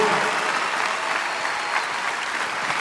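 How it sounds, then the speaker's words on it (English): Steady, dense audience applause from a comedy show crowd fills the space at close range, holding an even loudness from start to finish with no talk over it. "You guys are clapping"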